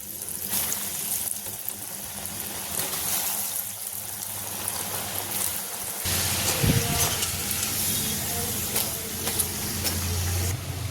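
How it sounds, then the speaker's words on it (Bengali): Potato french fries frying in hot oil: a continuous close bubbling sizzle that holds steady throughout, with a few faint clinks and no talking. "যে বাকিগুলো আছে ভেজে নেবো"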